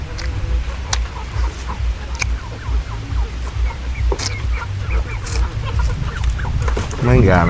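Farmyard chickens cluck and squawk repeatedly near the microphone, with a rural cooking scene around them and people talking over the birds throughout.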